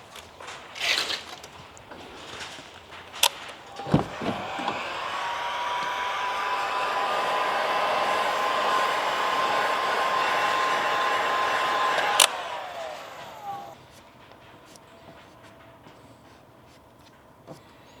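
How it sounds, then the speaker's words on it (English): A heat gun blows a steady, loud hiss for about eight seconds while warming a vinyl hockey stripe on a Bronco Raptor. Sharp clicks and handling knocks come before and after the rush of hot air. "I'm going to go ahead and hit this corner here with that heat gun."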